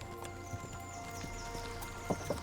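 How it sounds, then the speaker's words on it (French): Hooves of a grey horse clip-clop at an irregular pace in Kingdom Come: Deliverance II, moderately close, over a faint steady background. "Notre cheval s'appelle Galet."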